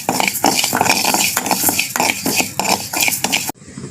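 Moong dal and raw rice dry-roasting in a pan, stirred with a metal spoon that scrapes and clinks against the pan in quick, repeated strokes up close before stopping abruptly.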